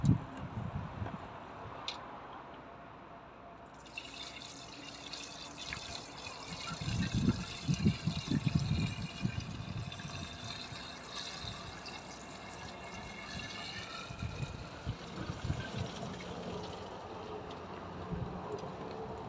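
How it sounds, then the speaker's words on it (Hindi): Water poured from a plastic bottle into a car's reservoir, a steady close trickling and gurgling that swells in the middle and runs on for the whole stretch with no talk. "तो मैंने बोतल ले ली है, इसमें डालूंगा पानी यहाँ से"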